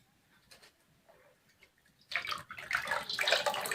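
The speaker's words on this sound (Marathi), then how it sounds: "आता परत ही डाळ धुवून घेते" Polished lentils (dal) are swished and rinsed in water in a vessel while preparing dal vadas. After a quiet start, loud sloshing and splashing suddenly begins and keeps going.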